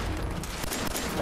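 Gunfire in Fallout 4 rattles in a dense, continuous burst of rapid shots, loud and harsh, filling the whole short moment.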